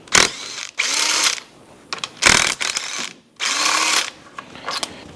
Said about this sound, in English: And then we've got to take our 1/2-inch long bolts out that hold the filter housing on.